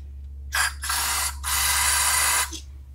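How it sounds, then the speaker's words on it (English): Carburetor cleaner is sprayed from an aerosol can into a small hole on a Yardworks snow blower's carburetor, in three close, loud hissing bursts: a quick short one, a longer spray, then the longest, over a faint low hum. "I usually spray some into this little hole right here"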